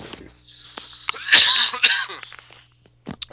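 A single harsh cough bursts out up close in a quiet room, with a smaller catch of breath trailing after it.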